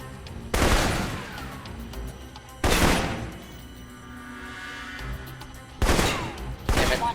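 Assault rifle fire in the video game Alpha Protocol: loud bursts of rapid shots that come in separate volleys with quieter stretches of game noise between them.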